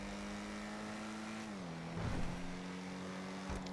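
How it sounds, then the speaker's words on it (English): A Maserati Quattroporte engine in GTA V giving a throaty, aggressive steady drone, dropping in pitch partway through with a louder burst of revving, no talk. "It sounds like aggressive, throaty kind of sounds, like a turbo tractor."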